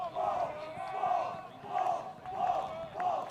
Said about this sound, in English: They're yelling his nickname, Brady Balls.